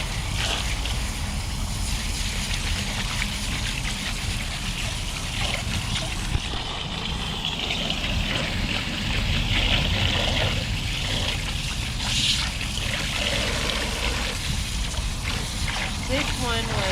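Running water splashes and trickles continuously as tie-dye shirts and onesies in Glacier and Granny Apple colours are rinsed out, close and steady throughout, with people talking over it.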